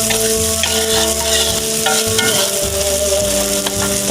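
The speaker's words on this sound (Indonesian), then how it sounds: "Kita tumis sampai harum." Spices sizzle in a hot pan for beef rendang, a steady frying hiss with occasional stirring, heard under continuous, prominent music.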